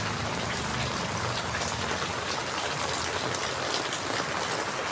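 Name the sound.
rain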